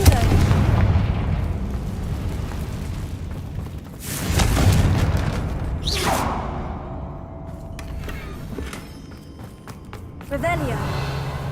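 A Confringo blasting spell goes off in a Harry Potter video game, a heavy boom around four seconds in with rumbling bursts and debris, set over a loud continuous game ambience with music and voices talking nearby.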